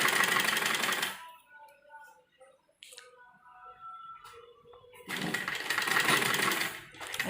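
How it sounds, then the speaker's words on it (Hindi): Sewing machine stitching fabric for a side-dori Naira frock, running in two loud, fast-whirring bursts separated by a quieter pause with faint clicks and handling. "तो देखिए मशीन के एक पैर के बराबर हमें इसमें सिलाई लेके चलना है"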